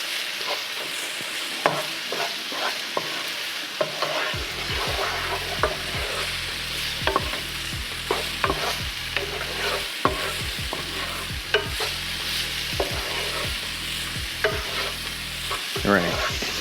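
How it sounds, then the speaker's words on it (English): Garlic fries in a hot pan, with a continuous sizzle under repeated scraping and clanking strokes of a utensil as it is stirred steadily close by. "you don't wanna burn your garlic, so stir it"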